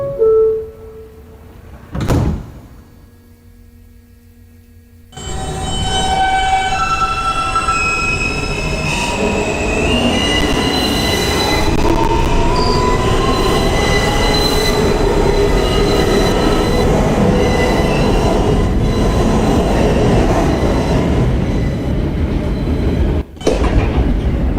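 A Queens-bound New York subway N local train, an R160, gets under way and rolls steadily with loud, continuous rumbling, clattering wheels and recurring high metallic squeals. A sharp clunk sounds near the end.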